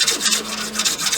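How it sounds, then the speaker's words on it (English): A hand rasp scrapes along a wooden ramrod for a colonial flintlock kit, a close, rough rhythmic rubbing with quick repeated strokes and no voices. "I'm just using this, it's really a rasp"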